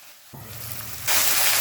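Snake gourd cooks in a covered pan over a gas flame, opening in near silence before a low sizzle starts and then swells into a louder, bright hiss.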